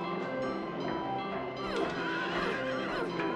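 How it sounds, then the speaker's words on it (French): Horses in Silent Hill 3 neigh loudly and repeatedly, whinnies rising and falling close by over a continuous game backdrop, with faint hoof clip-clop. "Ah, c'est les chevaux qui font ce bruit là."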